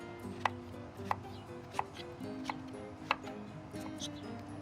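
A knife slices through large fresh shrimp on a cutting board, giving about six sharp, evenly spaced cuts up close. A faint low background hum runs under the cuts.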